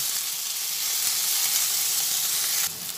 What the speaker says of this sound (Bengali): সব দিয়ে আবার ভালোভাবে এটা ভেজে নিচ্ছি।